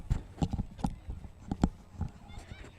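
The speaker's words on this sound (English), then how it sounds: "Again, the starter of our race, our pace horse there, we have Adriano Brown." A pace horse's hooves clip-clop on the ground at the start of a state championship cross country race, giving close, irregular thuds with brief gaps between them.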